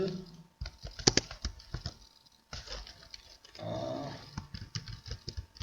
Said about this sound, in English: type HTML code here